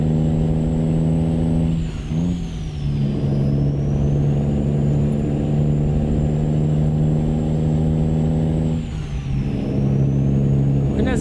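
In American Truck Simulator, a truck engine drones steadily and loudly, dipping briefly twice as the gears shift before the revs climb back to an even hum.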